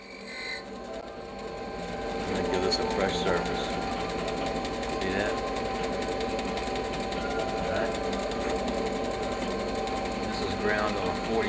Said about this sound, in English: then machine this down and do a cleanup cut on that